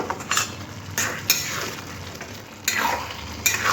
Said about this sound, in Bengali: এই যে জলটা বার হয়েছে এটা এইভাবে নাড়াচাড়া করে একদম জলটাকে একটু শুকনো করে নিতে হবে